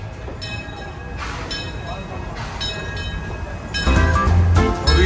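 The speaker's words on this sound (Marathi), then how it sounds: "ट्रेन राईड करायची ही बघ आली जुन्या काळातली ट्रेन बघ" An old-fashioned amusement park train at Disneyland Paris clatters along nearby, with squealing wheels and a loud rumbling surge as it draws close near the end; no talking.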